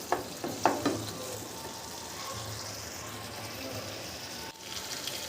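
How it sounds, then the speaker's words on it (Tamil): Tomatoes and onions sautéing in a pan for an egg dish, a steady close sizzle with a few louder stirring scrapes near the start and no talk. "தக்காளி வெங்காயெல்லாம் போட்டுட்டேன் வதங்கின்ட்டுருக்கு"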